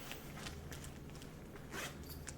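A zipper on a bag pocket is handled up close, giving several quick, scratchy zip pulls with short pauses between them, quiet and with no talking over them.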